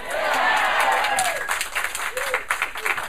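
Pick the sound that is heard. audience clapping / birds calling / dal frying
audience clapping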